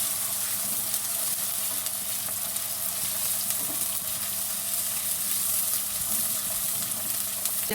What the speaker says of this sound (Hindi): इतना फ्राई करना है कि लाइट पिंक कलर हो जाए और सॉफ्ट हो जाए